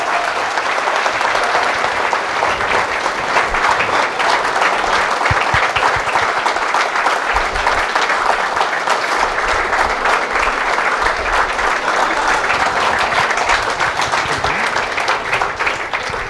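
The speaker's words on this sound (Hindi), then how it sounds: "एक बार जोरदार तालियां होनी चाहिए बच्चे।" Loud, sustained audience applause from students at a college event, dense and unbroken crowd clapping holding at full strength throughout without any talk.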